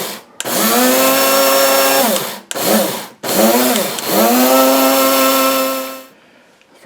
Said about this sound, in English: the instructions say to pulse the poppy seeds in a spice grinder until they're almost powdery